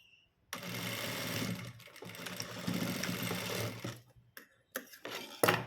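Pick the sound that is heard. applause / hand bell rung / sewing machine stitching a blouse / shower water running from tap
sewing machine stitching a blouse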